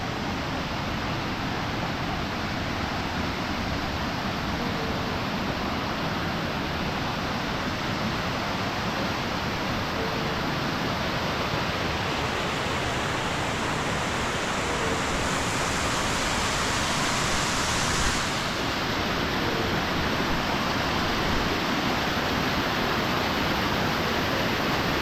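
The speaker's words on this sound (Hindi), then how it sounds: "आप झरना देखिए कितना खूबसूरत है।" Waterfall on the Thakur Kot stream along the Shrikhand Mahadev trek, a dense, unbroken rushing roar of falling water heard close and loud throughout, steady with no pauses.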